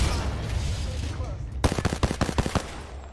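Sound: gunfire in Apex Legends video game

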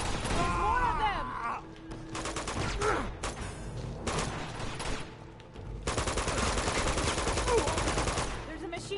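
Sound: machine gun fire in Uncharted 2 video game

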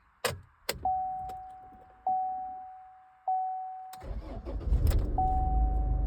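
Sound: Chevrolet car engine starting

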